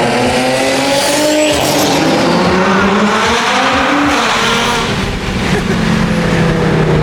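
A big-turbo Nissan 350Z engine revs loudly and close, its rising and falling tones layered over dense, roaring exhaust noise that stays strong throughout without speech.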